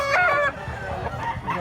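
Fighting cocks and chickens clucking close by at a market in Mantalungon, Cebu, with a rooster-like harmonic call at the start followed by softer, scattered clucks.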